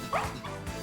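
The dog-like Pokémon Fidough gives its in-game cry in Pokémon Violet: a short yipping bark followed by a softer second yelp, close and clear over faint game background.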